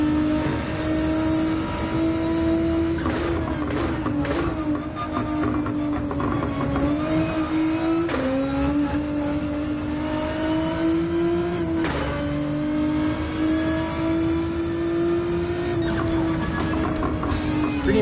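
A race car in Gran Turismo 7 holds a loud, close engine tone that climbs with revs and drops sharply at several gear shifts, with no talking.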